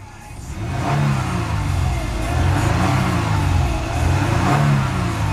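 A 2010 Toyota Sienna LE van with 81,000 miles starts and runs, its engine note swelling and easing in a few gentle revs, close and steady with no talking.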